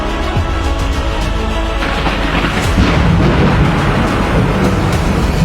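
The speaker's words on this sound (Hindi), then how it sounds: "आसमान में तेज बिजली कड़की और बारिश जो थोड़ी थमी थी, एकाएक फिर झमाझम बरसने लगी।" A thunderclap rumbles loudly over a dense, steady wash of heavy rain, a story sound effect of lightning striking and a downpour suddenly returning. No voices are heard.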